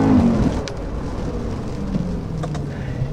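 A Mercedes SLK 55 AMG accelerates hard on a rainy residential street, its loud engine rumble close and continuous under a wash of rain and road spray.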